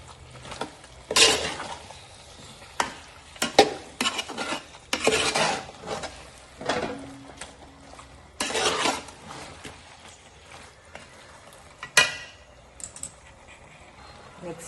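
Ground brinjal and potato paste being stirred into kurma in a pot: intermittent rough scraping and rasping strokes of a spoon against metal, close, separated by quieter pauses, no talking.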